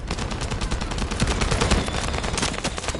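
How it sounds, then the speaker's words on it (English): Dense, rapid gunfire rattles nonstop in the video game The First Descendant, loud and close, bursts blending into a continuous barrage. "That stopped the gunfire."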